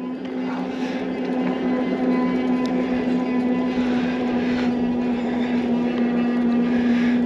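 Steady electric motor whine from a motorcycle-style e-bike while riding, a constant even hum with road and wind rumble underneath, continuous and fairly loud throughout.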